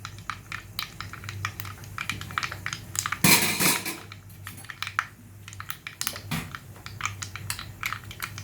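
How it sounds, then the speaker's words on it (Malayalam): Mustard seeds crackling in hot oil for a squid curry, a dense stream of quick sharp pops and ticks close to the pan, with one louder burst of spattering partway through and no speech. "ഇത് നമ്മുടെ കടുക് പൊട്ടുന്നുണ്ട്."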